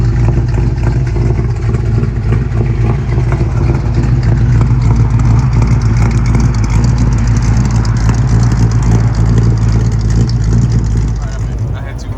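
A 1968 Ford Fairlane 500 Fastback with a carburetor left uncleaned for eight years and running rich pulls away, its V8 rumbling loud and steady close by before easing slightly at the end.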